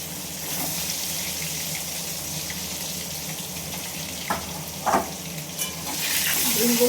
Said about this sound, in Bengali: এবার আমি ডিমগুলো আগে ভেজে নেব।